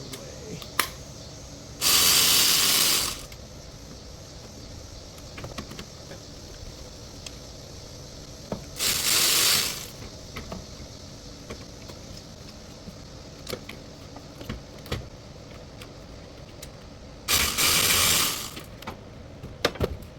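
Three separate bursts of hissing spray, each about a second long, stand out over quiet workshop background while a ratchet loosens the 12mm tensioner bolts on an ND Miata, with faint clicks between the bursts.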